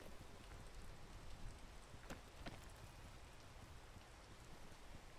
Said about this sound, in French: Le ruissellement incessant de l'eau.